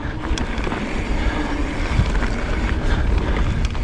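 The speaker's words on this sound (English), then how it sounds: "with this wind. It's very gusty" Gusty wind buffets the microphone outdoors at a mountain bike park, a steady loud roar with rising surges, no voices over it.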